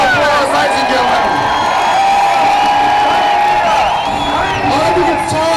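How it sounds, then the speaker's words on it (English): A big outdoor crowd of about five thousand at a Perth peace and freedom rally applauds and cheers continuously, with whoops and shouts rising over the loud, sustained clapping throughout. "Give her a huge round of applause, ladies and gentlemen."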